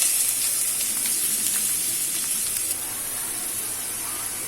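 Chopped onions frying in a cup of hot oil, with a steady, close sizzling hiss that holds at an even level the whole time and eases slightly toward the end, with no voices.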